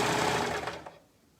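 A sewing machine runs through layers of fabric in a short close burst of rapid whirring, then stops and fades out.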